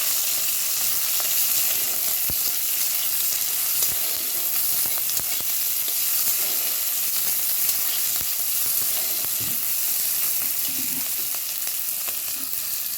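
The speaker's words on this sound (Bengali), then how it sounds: "এখানে কুচোনো পেঁয়াজগুলো আমি কড়ার মধ্যে দিয়ে দেবো। দিয়ে আমি একটু ভেজে নেব এইভাবে।" Chopped onions fry in hot mustard oil in a kadai for a home-style mutton curry, giving a continuous close sizzle with occasional soft stirring knocks and no talk.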